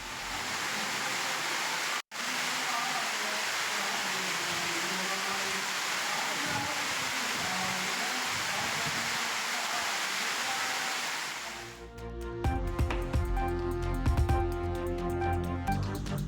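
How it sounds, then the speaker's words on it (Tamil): Heavy rainwater pours like a waterfall down the stone steps of the Palani hill temple after a downpour with strong winds, making a dense, steady rushing roar that breaks off abruptly near the end. "பழனி மலைக்கோயில் படிக்கட்டுகளில் அருவி போல் கொட்டிய மழைநீர்."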